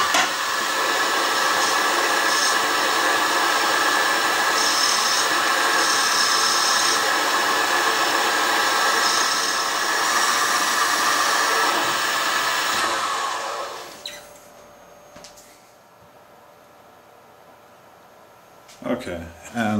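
A 5.77 mm end mill opens up a drilled hole in a machine shop, producing a steady loud machine whine and hiss for about thirteen seconds before spinning down to near silence, followed by a few faint clanks.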